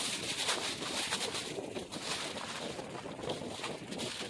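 Steady wind buffets a microphone outdoors in the White River Badlands during a fossil dig, a continuous broadband rush with no pauses and no voices.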